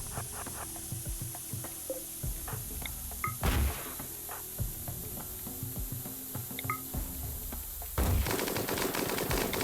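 Gunfire in the colony-building game RimWorld, with short sharp bursts and scattered shots over a busy, constant game soundscape, plus a louder crackling, rapid volley near the end.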